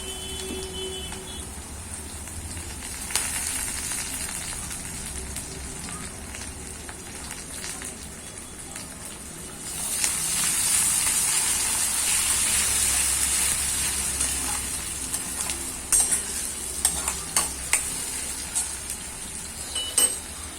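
Crushed ginger, garlic and tomato hit hot oil for a lentil curry, giving a steady crackling sizzle that swells louder midway, with a few sharp clinks near the end.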